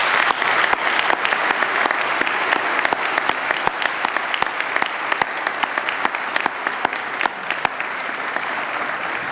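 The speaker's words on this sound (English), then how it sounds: "I would love for you to join me in a round of applause for them." An auditorium audience at a school awards day applauds the class of 2023, steady loud clapping from a large crowd that holds evenly throughout without speech.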